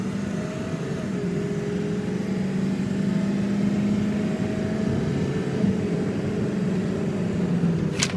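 A 7.3 truck engine drones steadily while driving, a continuous low hum with smooth, even tone throughout and a brief sharp click near the very end.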